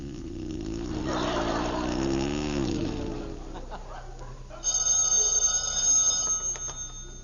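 A telephone rings as a radio-drama sound effect in an old-time comedy, a bright repeated bell tone over background hum in the latter half, after an earlier stretch of noisy, sweeping sound.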